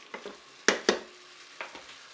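Chicken with sprinkled curry powder being stirred in a Cookeo multicooker pot: a few soft scraping and clattering strokes, two sharper knocks in the middle, quiet and close with no talking.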